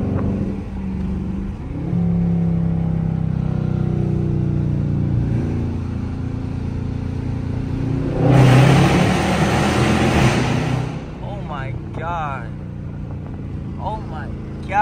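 A Dodge Charger RT with mufflers removed revs its exhaust under a bridge, a loud, echoing roar that swells sharply midway and then drops back to a rumble, with someone talking over it.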